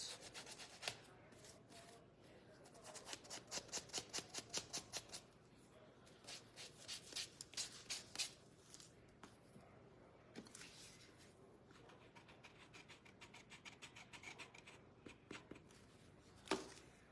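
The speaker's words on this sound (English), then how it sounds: "Sand the nose." Sandpaper rubbing over the nose of a handmade Raggedy-style craft doll, a quiet close scratching in quick bursts of short strokes, pausing briefly between rhythmic runs.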